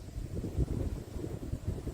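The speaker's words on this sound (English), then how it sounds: "You have to excuse the wind. It's really windy out here." Strong outdoor wind buffets the microphone in gusty, low rumbling bursts that rise and fall continuously, with no talking.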